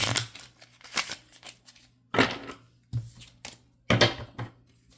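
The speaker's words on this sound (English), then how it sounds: "they shuffle pretty good, but I don't know if I want to shuffle them a whole lot" A deck of tarot cards being shuffled by hand, several quick riffling bursts separated by short pauses, close and crisp, with the cards ruffling and snapping together.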